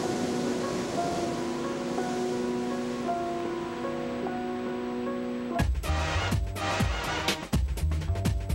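Ocean waves breaking on an Australian beach: a steady broadband wash of surf, with a tonal, music-like drone over the first part, then heavier, rougher crashing and churning water toward the end.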